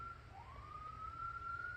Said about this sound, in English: there goes an ambulance